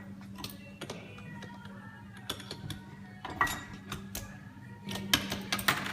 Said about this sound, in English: Just remove the top lock ring.